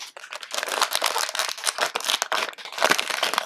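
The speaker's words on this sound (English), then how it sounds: "bring back Mr. Snippity Snip, and let's open our next bag" Scissors cut open a plastic Jurassic World blind bag, the thin plastic crinkling and rustling close up in quick, uneven bursts for several seconds.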